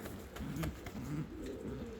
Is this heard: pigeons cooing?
yes